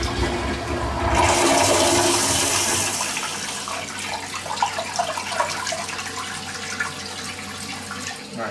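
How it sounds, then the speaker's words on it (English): EPLO U8Pro smart toilet doing a half flush, a loud rushing swirl of water that eases into a steady, gurgling bowl refill, close up with no talk. "so let's do a half flush right here"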